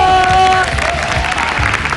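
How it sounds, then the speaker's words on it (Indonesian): Studio audience applause on an Indonesian game show, a dense wash of clapping mixed with crowd noise and a brief tonal sound at the start, loud and continuous, with a voice talking over it. "tepuk tangan dulu"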